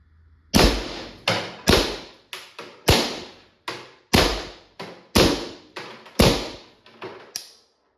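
Valken M17 airsoft pistol firing about eleven sharp, loud, close cracks at an uneven pace, with a hesitation near the end where the gun jams, each shot trailing into a short decay.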